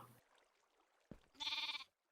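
A single short, wavering sheep bleat from the video game Minecraft (StoneBlock modpack) rings out after a brief pause, faint overall and quiet before it.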